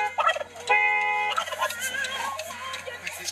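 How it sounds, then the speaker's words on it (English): A wild turkey gobbles loudly nearby, a rapid warbling rattle followed by more throaty calls, with no talking. "we actually got attacked by a bunch of wild turkeys"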